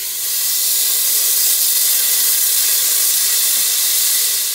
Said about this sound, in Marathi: हांडी गरम झाल्या, कूण गरम झाला, हांव आता बटर घाता